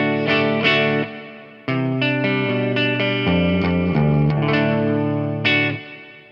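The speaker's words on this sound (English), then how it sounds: "And now we're going to hear it with some reverb in there also." Clean electric guitar tone through a 6505 amp head with reverb added, chords and single notes ringing out with sustained decays and a gap of silence, played alone with no talking.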